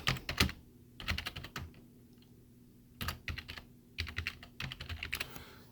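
Fingers tap out words on a computer keyboard in quick clustered bursts of close, crisp clicks, broken by short pauses, with no talking.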